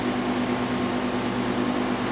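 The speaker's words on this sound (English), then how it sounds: "This is your condensing unit." Outdoor air conditioner condensing unit beside a new-construction North Texas house, its fan running with a steady broadband whoosh and a constant low motor hum, unchanging throughout and heard alone.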